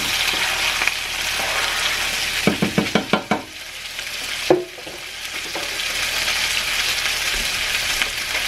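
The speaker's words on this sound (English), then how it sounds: "you're going to add your garlic right into the center of the pan" Garlic frying in melted butter in the center of a pan, a constant close sizzle broken by a quick run of about five sharp utensil taps and a later clunk, with no speech.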